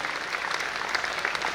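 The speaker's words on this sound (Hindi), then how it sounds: "मैं चाहता हूं हमारी एग्रीकल्चर टीम के लिए एक बार जोरदार तालियां बजाएं" An audience applauds an agriculture team at a rally, a brief steady patter of many hands clapping, moderately distant and unaccompanied by speech.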